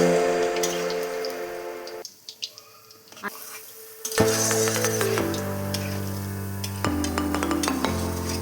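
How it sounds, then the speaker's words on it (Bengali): Palm fruit fritters (taler bora) frying in hot oil make a patchy crackling sizzle with scattered pops, set against steady tonal background music. "এইভাবে একে একে আমি সব বড়াগুলো ভেজে নেব।"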